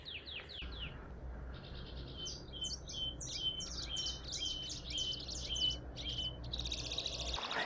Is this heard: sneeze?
no